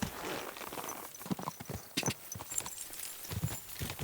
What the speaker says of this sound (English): There you are, little horse.